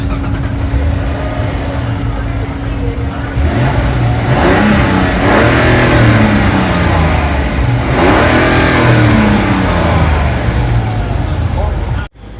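A 2023 Mazda CX-60 3.3 e-Skyactiv G AWD engine runs close and steady, swelling into a couple of revs, with a person talking over the constant rumble.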